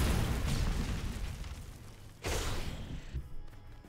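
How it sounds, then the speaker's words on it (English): An explosion in Minecraft Story Mode booms loudly at the start and rumbles away, followed by a second burst and fading debris noise. "is he gonna walk away from a cool explosion?"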